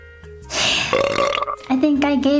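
One long, loud belch that stretches and wavers in pitch, close up over faint background music.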